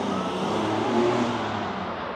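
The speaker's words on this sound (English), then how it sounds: "How loud is that car?" Loud car engine noise fills the whole moment on a London street, a steady broadband rush with a slight swell in the middle as the vehicle drives past nearby, with no speech.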